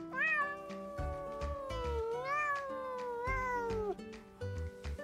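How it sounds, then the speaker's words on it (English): A cat meowing several times in long, drawn-out, rising and falling calls, clear and close, with a light rhythmic musical backing underneath. "Indeed, it is. It is a cat."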